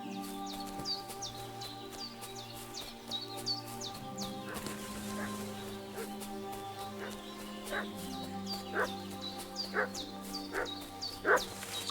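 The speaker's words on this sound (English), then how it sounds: "What's that dog making such a fuss about?" A dog in the medieval video game Kingdom Come Deliverance 2 barks over and over in quick, uneven bursts, fairly quiet and somewhat distant, with birds chirping in the background.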